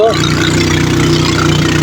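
A boat engine chugs with a steady low drone as the boat pulls away from a muddy bank, continuous and close throughout the short stretch.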